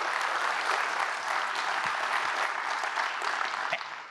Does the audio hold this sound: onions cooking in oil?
no